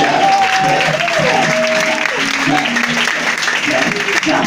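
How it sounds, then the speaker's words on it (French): A congregation at a Pentecost church service applauds and cheers loudly and continuously, a dense wash of clapping with a voice speaking over it. "Est-ce que tu peux l'acclamer? Si tu crois que réellement il a moi"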